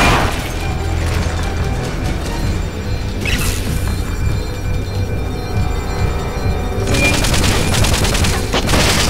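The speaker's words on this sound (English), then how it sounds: "Happy she's using machine guns now." Machine gun fire in Metal Gear Solid Peace Walker, rapid bursts rattling over a dense battle din with booms and crashes, loud and close, the firing swelling sharply near the end.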